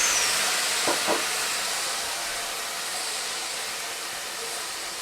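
Water hits a hot frying pan to deglaze it, giving a steady, fairly faint hiss of sizzling steam that slowly fades over a few seconds.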